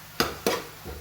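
A spoon scrapes twice through green garlic and chillies frying in a pan, two short stirring strokes over a soft steady sizzle, close and fairly quiet.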